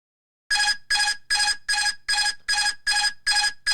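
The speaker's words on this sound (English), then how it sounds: "That's the autopilot disconnecting." An Airbus autopilot disconnect warning, a loud, close cavalry-charge chime that repeats in a steady rhythm of eight identical tones after half a second of silence, with no talk.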